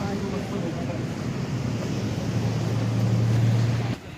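A swollen, flooded stream rushes in a steady loud roar near a mountain trekking trail in the Sham Valley, broadband water noise with some wind buffeting, cutting off abruptly at the end.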